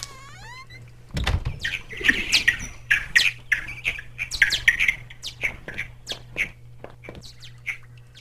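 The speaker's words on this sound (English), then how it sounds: "That's a weird sound for bats." Bats in a video game give a rapid scatter of high, sharp squeaks and chirps after a sudden low thump, the calls clustered and overlapping over a faint steady hum.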